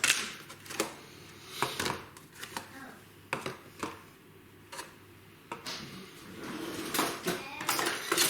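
Lamb karahi is served out with pots and utensils, bringing intermittent metallic clinks and knocks of spoons against pans, close and uneven across the stretch, with occasional faint talking in the background.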